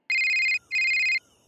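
A mobile phone rings with an incoming call in a Hindi audio drama: two short, bright electronic ringtone bursts separated by a brief gap, clear and close against near silence.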